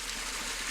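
A small waterfall on the tiny Rio Mairena near old mill ruins in La Alpujarra, southern Spain, gives a steady, soft rushing hiss of falling water, faint and continuous with no voices.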